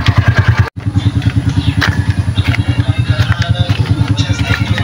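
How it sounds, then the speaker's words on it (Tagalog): A motorcycle engine runs close and loud with a steady, rhythmic throbbing beat that drops out for a moment before resuming. "Yung motor ni Karen Castillo."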